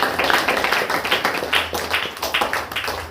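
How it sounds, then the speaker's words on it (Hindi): An audience at a church prayer meeting claps along in a steady, rhythmic beat of close, crisp claps that fills the room for a few seconds, with no talk over it. "ताली बजा करके"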